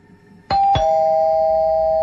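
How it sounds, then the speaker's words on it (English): A doorbell gives two quick strikes, a bright ding-dong whose tone rings on steadily and fades slowly. It is close and clear indoors, with no voices. "The doorbell rang"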